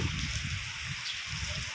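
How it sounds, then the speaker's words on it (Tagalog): Heavy rain falling steadily and hard, a dense hiss with a low rumble beneath it, during a road trip in the Philippines with mountains obscured by the downpour. "lumalakas pa rin ng ulan, no?"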